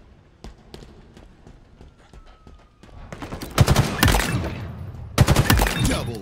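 Gunfire in Halo Infinite during a tactical slayer match: scattered single shots early, then dense loud bursts of rapid automatic fire in two clusters, fairly close, with no talk.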